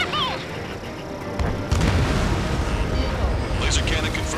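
A laser cannon blows up in the video game Ace Combat 7, a loud rumbling blast that swells after a second and a half and keeps roaring with heavy low-end debris noise.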